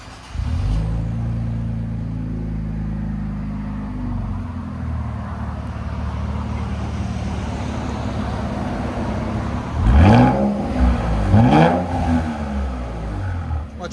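Infiniti Q60 with a 3.0L twin-turbo V6 and a 3-inch exhaust revving up close, a rising roar that settles into a steady hold, then two sharp quick blips near the end.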